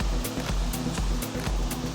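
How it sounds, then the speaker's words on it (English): Steady rushing water splashes continuously at moderate volume from a small garden waterfall inside a cafe in Auckland, New Zealand, with a faint rhythmic pulsing underneath. "This is the waterfall."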